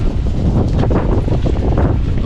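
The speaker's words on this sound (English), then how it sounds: "now it's also starting to rain and get really windy" Strong wind gusts roar into the microphone at a ruined medieval castle as rain begins, a loud, continuous rushing buffet with no speech.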